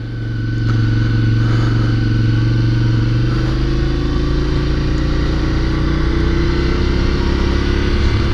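Motorcycle riding on a New York City road, its engine droning steadily and close with a low rumble and rising pitch as it accelerates, wind and road noise constant underneath.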